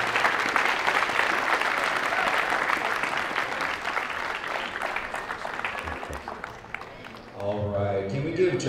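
An audience at a motivational graduation speech claps loudly for the speaker, a dense sustained round that thins toward the end before a voice starts talking over the last moments.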